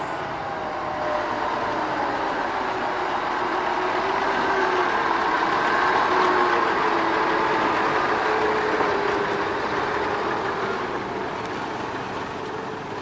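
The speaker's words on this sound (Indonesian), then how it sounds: "Lokomotif melanjutkan perjalanan dengan dikawal ketat oleh para operator yang siap siaga ketika ada halangan di depan jalur lokomotif." Sugarcane lorry locomotive running along a narrow-gauge plantation track at Sukoreno, giving a steady rumbling engine drone with rail noise and faint squeals, loud and continuous throughout with no talk.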